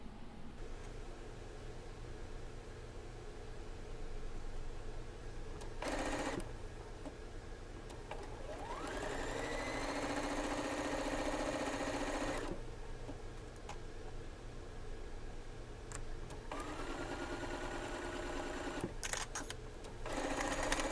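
A sewing machine stitches a quilt block seam in several quiet bursts of rapid whirring, separated by short pauses, close by with no talk.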